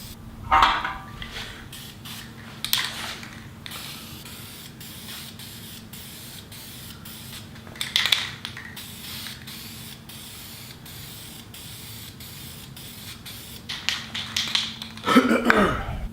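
Rust treatment is sprayed onto metal car parts in a garage in several short hissing bursts separated by quiet gaps, with small clicks and handling noises between them.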